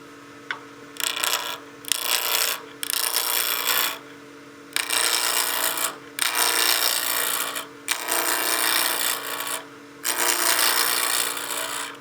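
A spindle roughing gouge cuts a spinning wood blank on a lathe, giving harsh, loud scraping bursts that start and stop repeatedly over a steady motor hum, close up.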